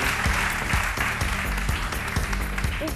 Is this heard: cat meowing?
no